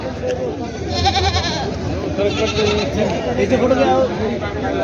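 Goats bleat repeatedly amid a noisy crowd of chatter at a goat market in Parbhani, Maharashtra, with overlapping animal calls and voices filling the busy outdoor scene.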